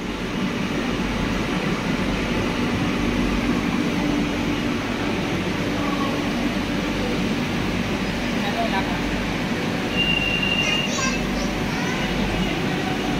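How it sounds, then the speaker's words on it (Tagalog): A train passing during a birthday gathering makes a steady, broad rumble that lasts throughout, with people talking in the background. "Ayun ang train."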